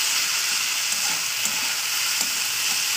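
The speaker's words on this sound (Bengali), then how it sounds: "চলুন এটা ভালো করে ভাজা করে নেবো" Steady, close hiss of potatoes, beans and tomato sizzling in oil for a flattened-rice pulao, with soft stirring scrapes mixed in and nobody speaking.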